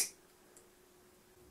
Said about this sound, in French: avec la pince, je vais vraiment couper un tout petit peu